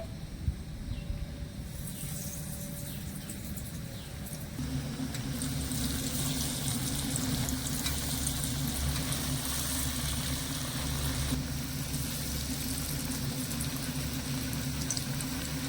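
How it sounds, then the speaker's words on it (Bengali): Vegetarian cutlets slide into medium-hot oil, and a steady frying hiss swells after the first few seconds and keeps bubbling loudly and evenly throughout, with no talking. "তেলটা যখন মিডিয়াম গরম হয়ে যাবে তখন এবার আমি গুলো এখান থেকে নিয়ে ছেড়ে দেবো তেলের মধ্যে"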